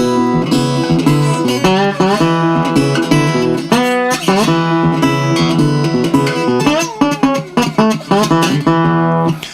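Slide guitar riffs in a hybrid technique, with sliding pitches and plucked double stops, play alone, bright and close, in phrases with brief gaps.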